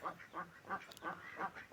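Ducks on a farm quack in a steady repeating rhythm, about six nasal calls spaced evenly, moderately close, with a faint higher chirp in the middle and no talk.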